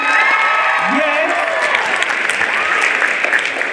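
An audience at a ninth-grade school poetry slam applauds the poets, steady dense clapping with a few cheers and whoops, loud and continuous throughout.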